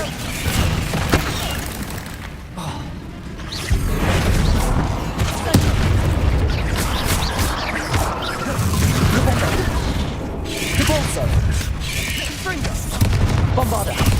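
Heavy booming spell blasts from Bombarda and other combat spells in Hogwarts Legacy, repeated loud explosive thuds and crashes filling the whole stretch over a dense battle din, with no talk.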